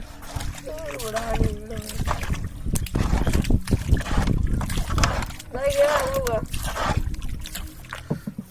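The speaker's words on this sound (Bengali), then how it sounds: "আমরা নৌকায় উঠে গেছি ছোট একটা নৌকা" A small wooden boat crossing a village river in rural Bangladesh, with water splashing and sloshing against the hull under steady wind noise, while voices talk nearby throughout.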